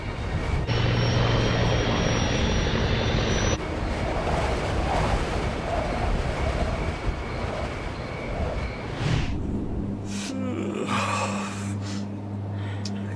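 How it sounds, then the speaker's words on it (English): An airliner on its landing approach to Buffalo airport, with a steady loud engine drone and cabin hum filling the whole stretch, shifting in tone partway through, with no clear talking. "Clarence Center is on the approach path for aircraft landing at Buffalo's airport."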